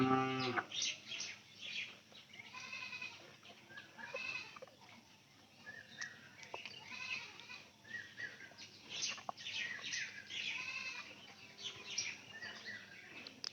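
Cattle on a farm with heifer calves call out again and again, with close, drawn-out moos repeating throughout amid rustling farmyard noise.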